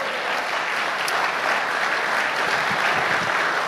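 A church congregation applauds for the Lord during a sermon, a loud, dense, continuous wash of clapping that holds steady throughout, with no speech.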